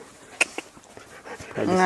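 Two dogs come in panting, with quick breathy pants and a few sharp yips or whimpers close by; the panting builds toward the end under a voice speaking.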